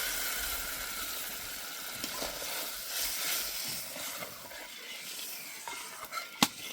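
Spice paste and mustard paste for hilsa curry sizzle softly in a pan while being stirred and scraped, with a few light clinks and a sharp utensil knock near the end; no voices.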